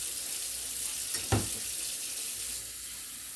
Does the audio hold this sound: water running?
yes